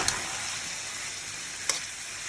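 Chicken frying with spices in a pot for khichuri, a steady close sizzle with a couple of brief stirring taps.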